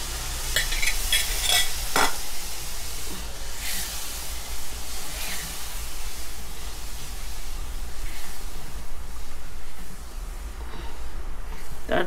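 Coconut milk simmers with lamb brain in a pan while a spoon stirs, a steady close sizzle with soft stirring scrapes and a few clinks early on, without any talking.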